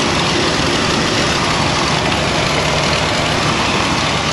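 A Chevy small-block V8 with throttle body injection idles with a leaking header gasket, giving a constant, loud, rough low rumble close by with a dense hiss and no voices over it.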